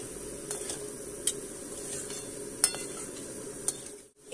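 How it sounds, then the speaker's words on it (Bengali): Rice gently stirred and turned in a pan for soya chunk pulao, a soft steady scraping with faint sizzle and a few sharp clinks of a spoon against the metal pot. "এবার হালকা হাতে আমরা রাইসটা ওলট পালট করে নেব।"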